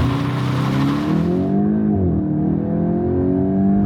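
A 2025 Volkswagen GTI pulls away hard from a standstill on all-season tires, its engine note rising loud and near through the gears, then the pitch dips and climbs again as the revs settle into a steady drone.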